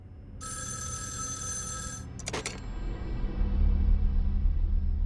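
An electronic telephone bell ringing in the video game Erica, a bright sustained trill that stops abruptly, followed by a brief click and a low rumbling background that grows louder.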